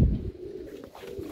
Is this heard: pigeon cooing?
yes